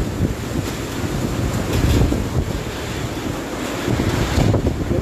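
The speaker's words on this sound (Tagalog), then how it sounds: "Malakas yung hangin." Strong wind from Super Typhoon Goni sweeps through Naga City, buffeting the microphone with a steady, roaring rush that swells into heavier gusts. No one speaks.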